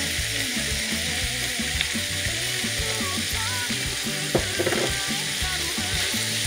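Crushed spices hit a pan of browned onions for an oxtail curry, giving a steady close sizzle and frying crackle with a few stirring scrapes partway through.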